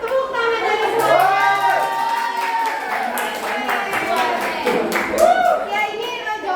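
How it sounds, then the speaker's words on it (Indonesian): Students in a classroom clap together as a reward, a bright spatter of hands under ongoing talking voices that dominate much of the stretch. "hadiahnya tepuk tangan dari semua."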